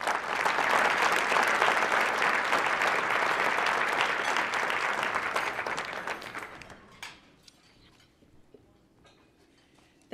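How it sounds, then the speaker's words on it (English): A crowd at a charity award event gives a broad round of applause that holds steady for several seconds before tapering into scattered last claps and near silence. "Can we give them a round of applause?"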